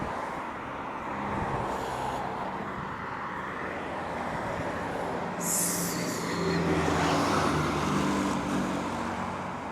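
A wildfire truck passes along a dry roadside, a steady broad engine and tyre roar that builds and lingers across the whole stretch, with no talk over it.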